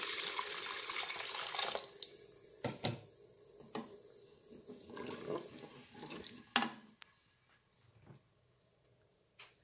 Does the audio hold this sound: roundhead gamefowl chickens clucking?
no